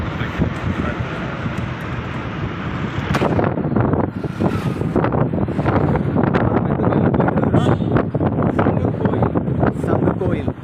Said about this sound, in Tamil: காத்துல நம்ம பேசுறது இப்போ கேட்காது